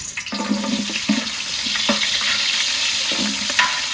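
Onion and garlic frying in oil for bhuna khichuri give a steady, close sizzle with bubbling and a few stirring scrapes and clinks.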